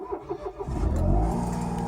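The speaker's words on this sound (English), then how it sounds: "that lovely little burbling sound of a tiny 3-cylinder engine" An original Smart City Pulse with a tiny three-cylinder engine cranks and catches, then settles into a close, low, steady burble as it idles.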